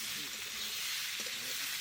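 Ginger paste, cumin and spices frying in mustard oil in a wok, a soft, steady bright sizzle at low volume with faint stirring scrapes beneath.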